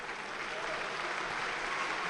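A crowd at a judo Grand Prix tournament applauds, a dense, steady wash of clapping heard from a distance and sustained evenly across the moment.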